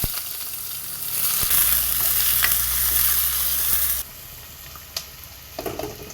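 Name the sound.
onions frying with fenugreek in a pan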